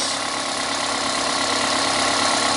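A Toyota Fielder engine idles steadily, its RPM having climbed and settled, giving a continuous, fairly loud mid-range hum with no gaps.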